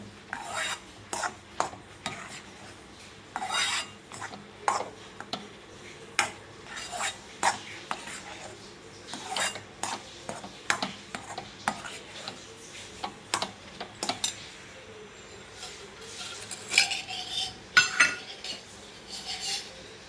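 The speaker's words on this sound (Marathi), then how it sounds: "जोपर्यंत हे मिश्रण घट्ट होत नाही तोपर्यंत आपल्याला हे असं हलवत राहायचं आहे बघा." A spoon scrapes and clinks against a pan while a thickening mango and semolina gulab jamun mixture is stirred, repeated irregular metallic taps and scrapes at close range with no talking.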